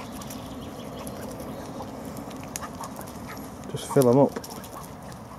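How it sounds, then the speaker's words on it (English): Ducks on a carp fishing lake give a short burst of loud, nasal quacks close by, rising over steady outdoor background noise while someone speaks briefly. "Ducks are back."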